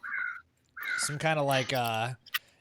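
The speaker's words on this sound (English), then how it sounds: "There's a very large tree that's got like a giant murder of crows." Crow caws from a large murder of crows in a tree, playing as a tabletop game ambience track; harsh harmonic calls come in a short burst, then a longer cluster of loud, close caws.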